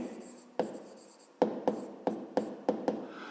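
A pen writes in a notebook during a 5th-grade math exercise, a handful of sharp, close taps and short strokes spaced unevenly across a quiet room with no talk.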